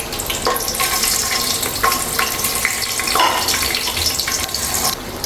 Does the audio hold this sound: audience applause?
no